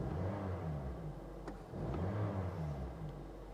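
A car's engine is revved with the gas pedal while the car sits still, rising and falling in steady swells over a low, continuous rumble.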